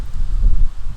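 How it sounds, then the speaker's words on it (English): Gusty wind buffets a microphone outdoors, a loud, continuous low rumble with fluctuating intensity throughout. "holy crap, it's windy out here"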